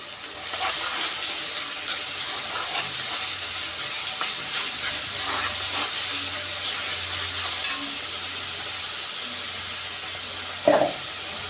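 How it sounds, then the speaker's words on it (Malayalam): Chopped onions fry in a pan for a beef fry, a steady close sizzle with occasional stirring clinks. "രണ്ട് വലിയ സവാള അരിഞ്ഞത് ഇട്ട് മൂപ്പിച്ചത്"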